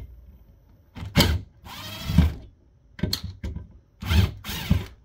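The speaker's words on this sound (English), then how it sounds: "This is an impact driver, and I believe they've used their fair share of Loctite on these." An impact driver backing out tight, thread-locked screws from a Dell-branded APC AP6015 PDU, several short bursts of loud rapid hammering rattles separated by pauses, close up with no talking.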